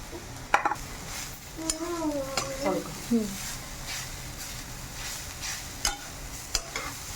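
Grated radish is mixed in a pan with a spoon, giving soft scraping and stirring strokes over a faint sizzle, while a voice speaks briefly partway through.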